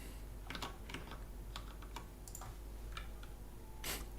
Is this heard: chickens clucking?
no